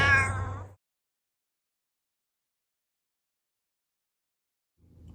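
A red cat gives a single short, upset meow close by at the very start, then silence, with faint movement returning near the end.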